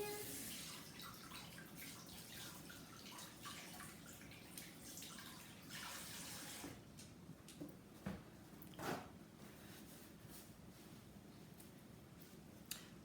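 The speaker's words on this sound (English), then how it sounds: "Rinse my hands." Running tap water splashing over hands during strawberry banana pudding preparation, a steady broadband wash that thins out midway into intermittent drips and small splashes, close and alone.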